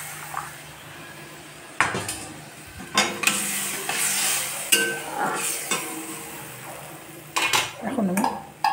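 A pot of Bengali fish curry with potatoes is handled on the stove: a few loud metallic clanks and scrapes of a lid and pan, close by, over a low bubbling simmer.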